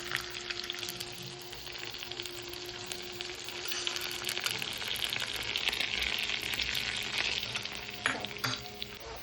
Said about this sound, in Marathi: ही फोडणी आपण आता साखर पाणी केलेले त्यामध्ये टाकूया